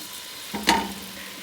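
Minced garlic sizzling in a hot pot at the start of butternut squash soup, a soft steady frying hiss with one brief stir scrape, close and quiet, with no talk.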